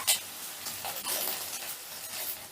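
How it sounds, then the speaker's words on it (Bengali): Soya chunks fried reddish in hot oil being lifted out: a faint, steady sizzle with light scraping and clinks of a utensil against the pan. "দেখো, সোয়াবিনগুলো আমি বেশ লাল লাল করে ভেজে নিয়েছি। এবার এগুলোকে তুলে নেব।"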